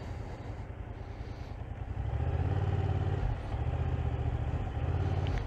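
A motorcycle turning with half clutch on a licence test course, its engine running at a low, steady idle that rises into a louder, pulsing drone in repeated surges, fairly close and with no talking.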